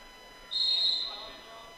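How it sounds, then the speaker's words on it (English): A referee's whistle sounds once in a short, clear blast at a college wrestling match, moderately distant over the soft murmur of the arena. "On the whistle, Mackey unable to get to his feet."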